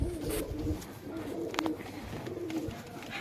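Pigeons coo in a loft, low soft rolling calls repeating amid a busy murmur of birds and a few sharper flutters or chirps, close and moderately loud.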